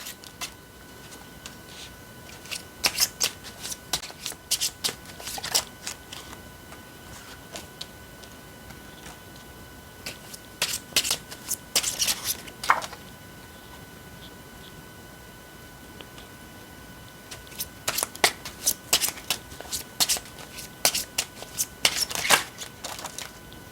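Tarot cards being shuffled by hand, soft papery riffles and flicks arriving in short clusters separated by quiet pauses, close and faint over a low background hiss.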